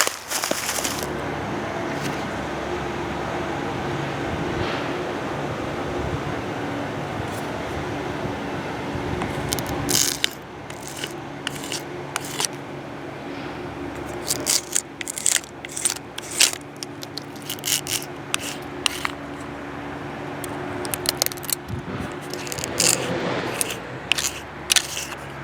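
A paint scraper rasps insect eggs off a tree's bark in a run of short, crackly scrapes, denser and steadier at first, then broken into brief bursts and clicks against a low outdoor background.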